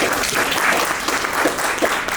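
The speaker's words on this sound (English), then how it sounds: "No one's gonna clap?" Audience members at a Bitcoin merchants meetup break into dense, continuous clapping that fills the room at close range, with no speech over it.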